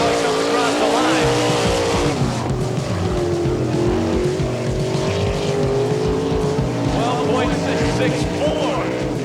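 A sprint car runs a qualifying lap at Eagle dirt track in Nebraska, its engine screaming loud and close with rising and falling pitch through the turns. An announcer talks over the continuous roar.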